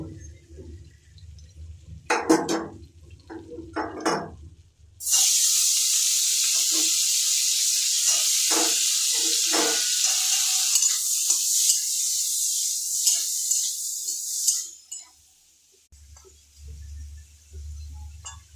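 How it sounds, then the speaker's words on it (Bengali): Capsicum drops into melted butter in a wok and a loud, steady sizzle takes over for about ten seconds, preceded by a few clinks and followed by quieter clatter. "কড়াই দিয়ে দিয়েছি বাটারটা গলে এলে ক্যাপসিকামগুলো দিয়ে দেব।"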